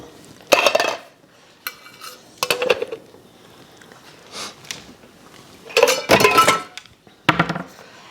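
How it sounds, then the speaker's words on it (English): A metal spoon clanks and scrapes against a soup pot in a few irregular bursts, with quiet gaps between, as sugar and dried herbs are stirred into a tomato-based meatball and tortellini soup. "So we're going to stir this in."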